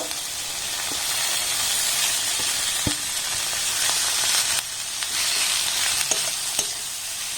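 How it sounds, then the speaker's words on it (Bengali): Grated potato, carrot and other vegetables sizzle and hiss in a hot pan while being stirred, with steady frying noise and a few light clicks of the spoon against the pan. "এবার সমস্ত সবজি একটু হালকা নাড়াচাড়া করে ভেজে নেব"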